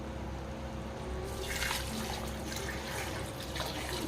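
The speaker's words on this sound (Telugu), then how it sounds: "ఇప్పుడు ఇదే గ్లాస్తో మనము 6 గ్లాసులు వాటర్ వేసుకుందాం" Water is poured from a glass into a pot of basmati rice for mutton biryani, a steady splashing gush that rises partway through and continues under a constant background hum.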